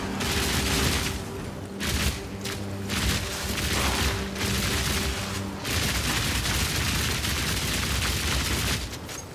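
A fully automatic crossbow firing rapidly in Path of Exile 2, a dense stream of bolt shots and impact bursts with brief pauses, loud and continuous, no voices.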